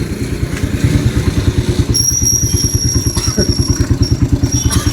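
A motorcycle engine putters with a fast, even pulsing beat, loud and close for several seconds, while a thin high whine cuts in partway through.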